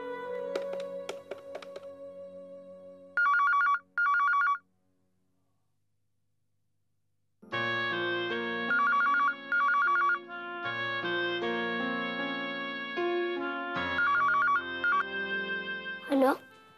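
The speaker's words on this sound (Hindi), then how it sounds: "कब से मैं फोन कर रहा हूँ, आपने फोन क्यों नहीं उठाया?" A phone ringtone chirps in repeated short melodic bursts alongside background music, broken by a silent gap, with voices talking around it in an indoor scene.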